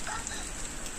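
Rain falls outdoors in Butterworth as a brief, dense, steady hiss and patter, fairly close.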